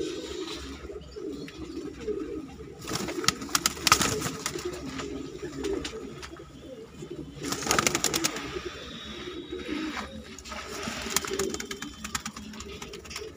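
Pigeons of a fancy breed at a Delhi pigeon sale, cooing repeatedly nearby with soft bird calls and occasional wing flutters over a steady outdoor background.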